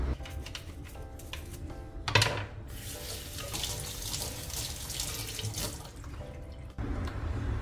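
Running tap water at a household sink as a removable appliance part, one that measures water, is rinsed under it: a steady stream with splashing and shifting flow, plus a few clicks and knocks as the part is handled.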